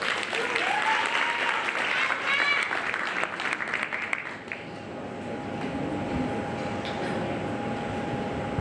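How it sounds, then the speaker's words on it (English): Audience applause at an awards ceremony, a dense wash of clapping for roughly four seconds that then drops away, leaving a low murmur and a steady electronic tone. "Can we give him a round of applause?"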